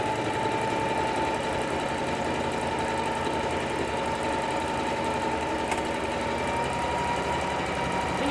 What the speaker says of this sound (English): You're just going to push the pedal down and kind of very gently guide the fabric, but the machine is going to make a whole buttonhole